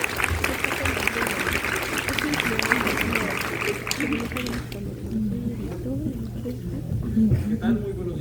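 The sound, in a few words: audience applause welcoming a speaker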